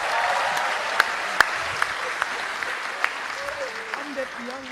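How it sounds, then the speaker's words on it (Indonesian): Audience applause at a youth speaking event, a steady wash of clapping from a crowd with a few sharper individual claps standing out, moderately loud throughout, with faint voices underneath. "tepuk tangan buat kita semua."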